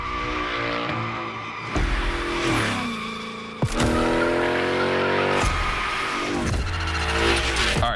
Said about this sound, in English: Let's see how you handled your first slides with the Hoonigan.